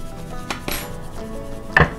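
Kitchen clatter as a plate is set down on a counter: a couple of soft knocks early, then one sharper ceramic clack near the end, close and alone.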